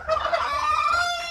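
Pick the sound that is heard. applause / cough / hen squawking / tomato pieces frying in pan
hen squawking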